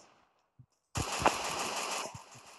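Shotgun fire in the Free Fire battle royale game: after a near-silent stretch with a faint tap, a loud sustained burst of rapid gunfire erupts and rattles on before tapering off.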